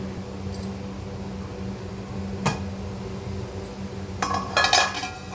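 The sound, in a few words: lid placed on a pot of cooking pulao rice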